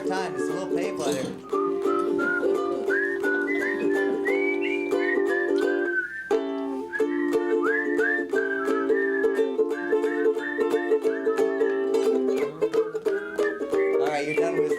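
A person whistles a wandering melody, clear and close, with a brief pause partway through and a low hum of voices underneath.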